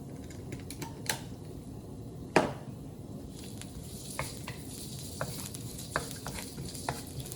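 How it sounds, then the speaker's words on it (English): Minced garlic browning in a pan for stir-fried dried noodles gives a quiet, close sizzle with a sharp utensil knock near the start and scattered light clicks and scrapes of stirring. "I'm gonna brown my garlic for a little bit first."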